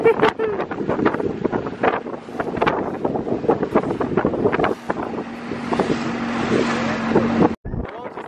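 Motorboat engine drones under heavy wind buffeting the microphone, with water slapping and people talking over it throughout.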